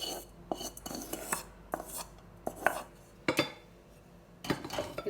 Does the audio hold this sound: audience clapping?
no